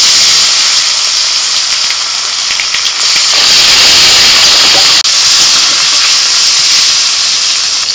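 Chopped tomatoes hit hot oil in a pan already spiced with bay leaf, cardamom, cinnamon, clove and cumin, giving a loud, broad hiss that swells sharply midway and stays strong, with no speech.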